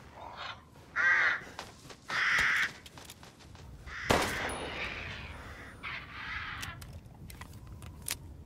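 Crows caw repeatedly in Resident Evil Village, with harsh calls in bursts, then a loud gunshot rings out, followed by more scattered cawing and shots in the game's outdoor village setting.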